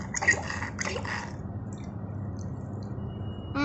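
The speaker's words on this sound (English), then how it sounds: "Now I will take the bottle and squeeze it in the water." Plastic bottle squeezed under soapy water in a mug for a bubble experiment: a short burst of wet bubbling and gurgling near the start, then quiet liquid drips and soft squishes, close up.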